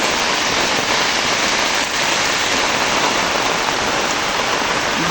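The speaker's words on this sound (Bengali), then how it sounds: "এই দেখেন কী পরিমাণ বৃষ্টি হচ্ছে" Heavy rain falls in a loud, dense, unbroken roar of drops on surfaces close by, steady throughout with no other sounds.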